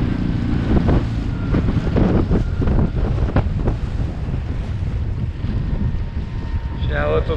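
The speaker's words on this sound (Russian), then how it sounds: "Ветер, блин, разгулялся." Strong wind roars and buffets the microphone continuously on a riverbank, with water sounds underneath and a brief faint voice near the end.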